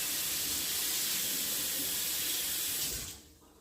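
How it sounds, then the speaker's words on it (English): Hot water running steadily from a kitchen sink tap, a loud even hissing rush that stops abruptly near the end, leaving near silence. "I'm just going to go ahead and add in some hot water just from the sink here"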